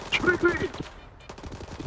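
Gunfire in the shooter game S.T.A.L.K.E.R. 2: a quick burst of several close, loud shots in the first second, followed by quieter rattling and faint scattered noise.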